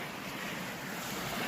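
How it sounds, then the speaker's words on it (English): Water rushes near a pond along a logging-road trail in Georgia, a steady, broadband roar that holds evenly throughout, heard fairly close with some wind buffeting the microphone. "Water is rushing."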